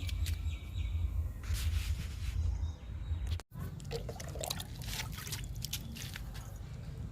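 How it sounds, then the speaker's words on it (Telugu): Water trickles and splashes steadily onto garden soil around tomato plants and a jamun sapling, a close, continuous pouring with faint dripping and a brief break midway. "నేరేడు మొక్కకి వాటర్ ఇస్తున్నా"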